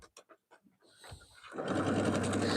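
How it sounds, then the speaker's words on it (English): A sewing machine stitches a quilt seam, a few soft separate taps giving way to a steady, fast whirring run that grows louder and continues to the end. "we're just going to tack this down and then sew the seam all the way across"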